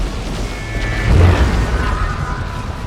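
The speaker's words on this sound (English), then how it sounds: "A rocket run thrown in from the AI." An AI-called rocket run strike detonating in Warhammer 40k: Dawn of War 2, a deep rumbling boom that swells mid-clip over battlefield noise, with faint whistling tones before and after.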